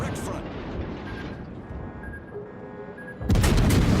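Naval gunfire from the British Tier 10 cruiser Minotaur in World of Warships, a steady rumbling barrage that swells into a loud, dense boom of fire near the end, with a voice talking over it.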